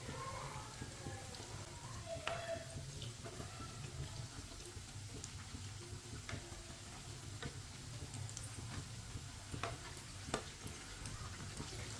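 Bread rolls fry in a pan of oil, a faint continuous low sizzle with occasional small ticks and pops, steady throughout and unaccompanied by voices.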